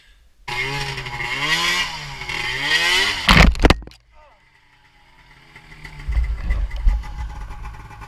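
M7 snowmobile engine revving and revving down on thin snow in Nevada backcountry tree riding, a loud close warbling drone for three seconds, then a burst of noise, quieter idling, and a rising rumble near the end, with people talking over it.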